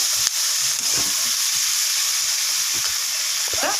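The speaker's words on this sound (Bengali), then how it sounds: "চালগুলো ওর মধ্যে দিয়ে দিচ্ছি এটাকে ভাজা ভাজা করে নিচ্ছি আমি" Rice and spices fry in a hot pan for a fish-head dish, giving a steady loud sizzle and hiss up close, with a few soft stirring scrapes underneath.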